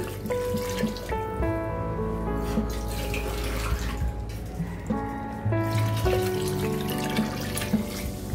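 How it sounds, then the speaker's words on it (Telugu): Water is poured into a cooking pot of chicken kabsa, making a steady splashing, running-liquid sound over background tones. "సో ఈ టైంలో కొంచెం వాటర్ యాడ్ చేసేద్దాం."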